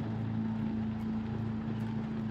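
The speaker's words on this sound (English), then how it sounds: "I will leave the car running" A car engine idles steadily in Project Zomboid, a low, even hum that stays constant and fairly quiet throughout.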